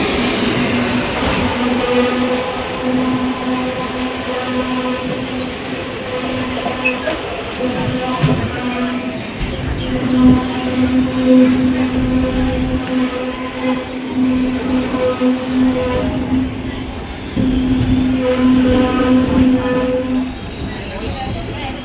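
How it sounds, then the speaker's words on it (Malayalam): A superfast sleeper train, number 22659 from Thiruvananthapuram North to Rishikesh, pulls out of Kannur station with a steady rumble and a low droning hum, heard from on board, with rattling and clatter throughout and a few louder surges. "കണ്ണൂർന്ന് ട്രെയിൻ ഡിപ്പാർട്ട് ചെയ്തു കേട്ടോ"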